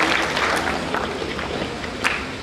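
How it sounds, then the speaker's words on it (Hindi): Audience applause at a traffic awareness week ceremony held at a school, a steady wash of clapping through the whole stretch with one sharper burst near the end. "तो मैं चाहूंगा एक बार जोरदार तालियां कुंदन विद्या मंदिर और नमिता पुरी मैम जैसे पर्सन की सोच।"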